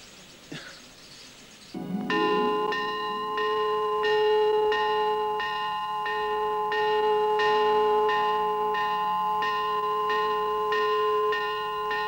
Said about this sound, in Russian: Это колокол моей деревни. Он звонит по утрам, возвещая начало занятий в школе.